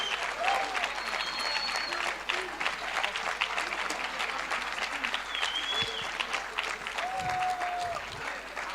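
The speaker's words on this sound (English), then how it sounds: "We want to give him a proper round of applause and standing ovation." Audience applause and a standing ovation at a youth conference session in a Johannesburg hotel ballroom: dense, steady clapping that holds for the whole stretch, with a few whistles rising above it.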